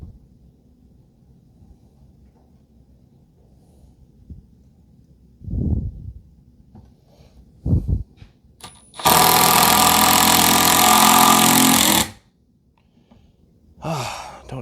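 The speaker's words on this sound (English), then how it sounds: "Don't you just love impact tools? Makes driving big holes, or driving big screws, I mean, really, really easy." Cordless impact driver sinking big screws during a DIY stand build: a few short clunks, then a loud sustained hammering buzz lasting about three seconds, followed by another brief burst, close and alone.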